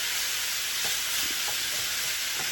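A pan of onions and burger meat sizzles and crackles steadily, close up and continuous, with faint stirring scrapes now and then.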